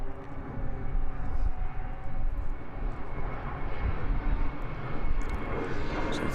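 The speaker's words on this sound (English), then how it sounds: "here the aeroplane coming out from East Midlands overhead" An aeroplane departing East Midlands Airport passes overhead at Donington Park race circuit, a steady loud jet engine roar with a low rumbling drone that holds evenly throughout.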